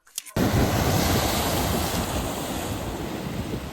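Rough, aggressive sea surf at Manapad beach roars continuously after a short burst of wind buffeting, a loud broadband wash of breaking waves with wind noise on the microphone.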